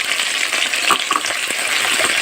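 Garlic frying in a pan with peppers, a close, steady sizzle and crackle with occasional light stirring clinks throughout.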